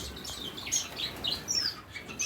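Parson finches chirp and tweet in short, high bursts in an aviary against a soft background hum, several calls overlapping close by.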